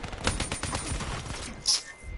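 Rapid-fire gunfire in a fast-paced shooter game, a dense run of quick shots up front easing into scattered bursts, with a sharp louder pop near the end.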